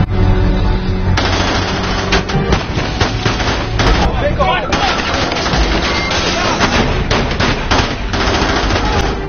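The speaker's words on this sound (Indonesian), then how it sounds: "Carol menembak petugas yang menegurnya lalu meluncurkan tembakan membabi buta" Rapid bursts of automatic gunfire rattle loudly and continuously, with dense overlapping shots and a chaotic, close-up intensity.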